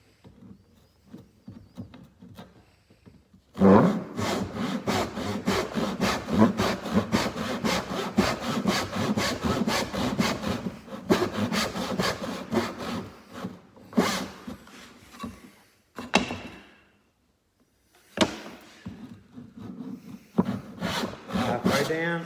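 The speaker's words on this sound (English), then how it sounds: "So again, cross cut first." Hand saw crosscutting a piece of wood for a pencil box, steady rhythmic rasping strokes up close for about ten seconds, slowing to a few final strokes with pauses near the end.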